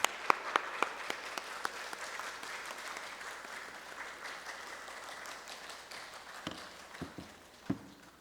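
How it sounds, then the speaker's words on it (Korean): A church congregation claps in welcome for a missionary, a steady dense patter of applause with a few sharper nearby claps standing out, fading slightly toward the end. "나오실 때 큰 박수 한번 할까요?"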